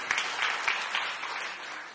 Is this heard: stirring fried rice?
no